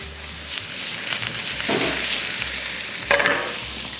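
Anchovy pasta ingredients frying fast in a hot pan, a continuous loud crackling sizzle broken by a couple of brisk stirring scrapes, heard close up without speech.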